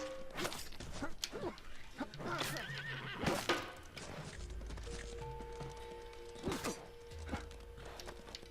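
Loud whinnies and neighs from a horse in the video game Apotheon, with hoof clops and thuds in between, set over droning game music.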